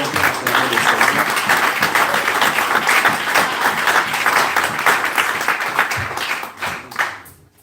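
A church congregation at Peniel Tabernacle in Montreal gives steady, sustained applause that fills the room for about six seconds, then tapers off and stops.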